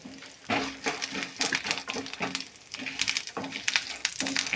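Curry leaves and dried red chilies fry in a pan for curry leaf rice, crackling and spattering in uneven bursts with occasional stirring scrapes, close and fairly loud with no voices.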